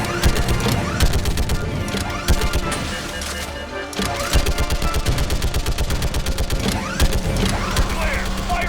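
Rapid bursts of gunfire and booming orbital strike impacts from Mass Effect 3 pound on almost continuously, loud and close, with a brief lull in the middle before the barrage resumes, and some talk under the din.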